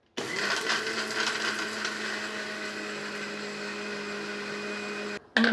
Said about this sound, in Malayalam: അത് കാരണം ഒന്ന് പൊടിക്കാം.